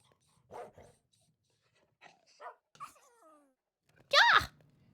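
Several dogs woofing in a scattered exchange, soft low barks and whiny vocal sounds spaced out, ending with one louder bark up close.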